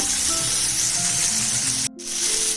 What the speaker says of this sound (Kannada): ಹಿಂಗೆ ತಿರುಗಿಸ್ಕೊಂಡು ಚೆನ್ನಾಗಿ ರೋಸ್ಟ್ ಮಾಡ್ಕೋಬೇಕು.